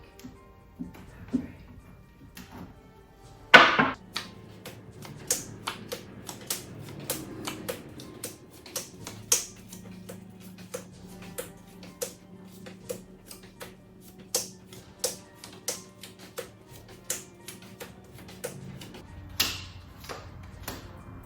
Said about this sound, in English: tap the cards 3 times, cut the pile whichever way you like